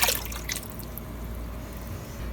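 Rinse water from emptied tomato sauce and stewed tomato cans splashes briefly into a crockpot of minestrone soup, a quick pour then soft faint dripping, close and quiet.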